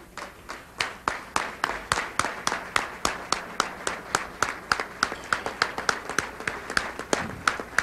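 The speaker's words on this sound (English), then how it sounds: "the applause and the ovation they deserve" Audience at the close of an Arab American convention claps in a steady, fairly sparse rhythm of distinct handclaps, a moderate crowd applauding at close range with no talking.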